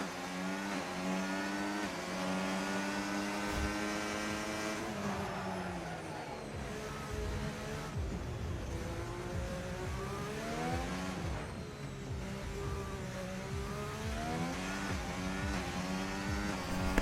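Alpine Formula 1 race car in an F1 racing video game at the Las Vegas Grand Prix, its engine note whining and shifting steadily through the onboard lap, loud and continuous with some tyre noise.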